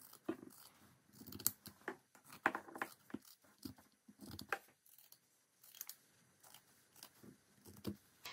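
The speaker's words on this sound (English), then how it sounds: "So I'm going to cut out a square from here." Scissors cut a square out of thin linen in a series of close, crisp snips and crunchy slicing strokes at an uneven pace with brief pauses.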